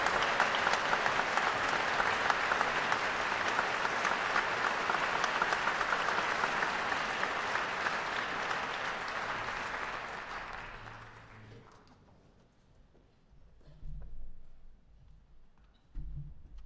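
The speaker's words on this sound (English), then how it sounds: "So we'd like you to please give her a warm round of applause as she comes to the stage." Audience applause at a live jazz concert at Lincoln Center, steady dense clapping for a singer walking onstage that fades out after about eleven seconds, followed by quiet room noise.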